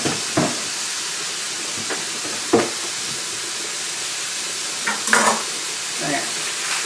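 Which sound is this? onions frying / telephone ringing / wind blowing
onions frying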